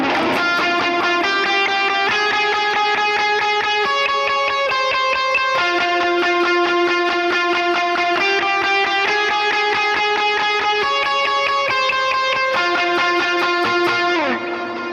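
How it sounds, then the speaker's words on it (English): A distorted electric guitar plays a repeating riff of sustained, gritty chords, loud and steady for the whole stretch, with no voices. "you'll notice that I kicked on some distortion there"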